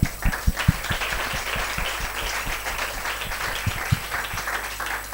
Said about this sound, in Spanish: un aplauso para vosotros, por favor